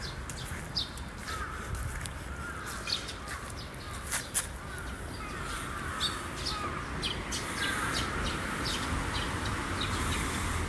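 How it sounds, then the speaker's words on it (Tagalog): Crows caw in short, sharp, scattered calls against a steady rushing outdoor background in Japan, some calls carrying moderately close and others fainter. "Nakakarindi kasi yung uwak."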